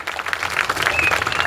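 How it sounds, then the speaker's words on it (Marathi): A crowd at a local ward election campaign rally claps for a woman candidate, a brief, moderately loud patter of many hands with a faint voice beneath it. "सगळ्यांनी तनुजासाठी टाळ्या वाजवायच्या आहेत"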